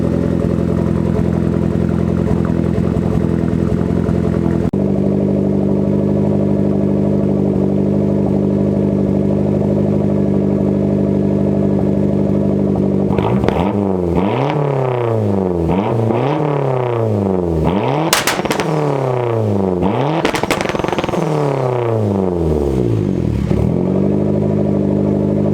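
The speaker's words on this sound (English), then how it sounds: "Car exhaust is sounding pretty good." A turbocharged Honda Integra with a straight-pipe exhaust idles with a steady low drone, then revs repeatedly in sharp rising and falling bursts, with a couple of higher-pitched peaks, loud and close with no talking.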